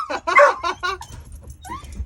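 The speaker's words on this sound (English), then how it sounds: "Okay, we don't do barking." Precious the dog barks and yips excitedly in short bursts close by, with a person's voice mixed in among the sharp yelps.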